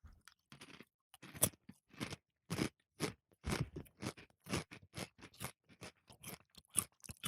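Crunchy Takis chips being bitten and chewed up close, a rapid irregular series of sharp dry crunches with brief pauses between bites, no voices.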